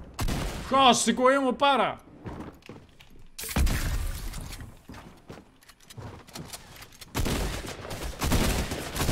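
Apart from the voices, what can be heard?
gunfire in the video game Fortnite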